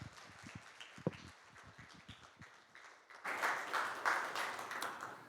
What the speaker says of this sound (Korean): 크게 박수로 환영해 주시면 좋겠습니다